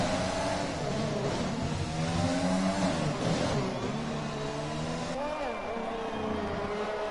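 Sim race car engine at the Baku circuit on a flying lap, a steady high revving drone with shifting pitch running under continuous commentary.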